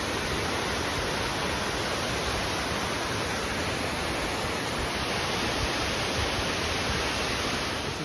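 Steady, dense roar of a waterfall on a snowy hiking trail, with water running under snow near the falls, a constant broadband rush that stays loud and unbroken throughout.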